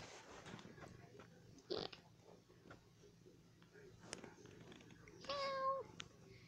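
A cat gives two short meows against a quiet room background, with a faint tap or two in between.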